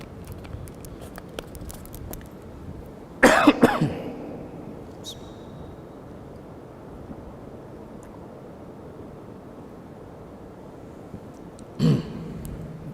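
A man coughs in a short harsh burst, then again several seconds later, close to the microphone against a quiet room hiss.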